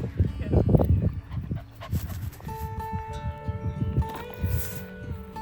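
A dog met on a lakeside hiking trail near Rydal Water and Grasmere gives a few soft whimpers and yips, close by, with quiet chatter and outdoor background around it.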